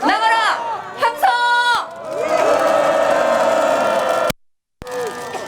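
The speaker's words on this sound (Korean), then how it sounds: "함성." A large crowd at an outdoor anti-US political rally in Korea roars with loud cheering and shouting after a chant, voices swelling into a sustained wall of sound before a brief dropout and a return.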